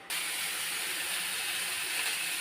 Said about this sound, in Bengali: এবার বেগুনের আলুটা ভেজে নেব।